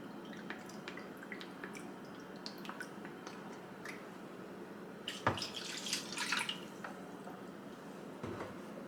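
Water trickles and drips into the plastic base of a humidifier being filled for cleaning with vinegar, a quiet steady flow broken by a louder splashing burst partway through, with no talking.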